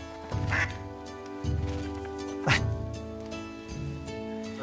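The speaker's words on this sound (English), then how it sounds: "And they have ducks. They have ducks." Ducks quack loudly and close by in several raspy bursts, with a low steady hum underneath.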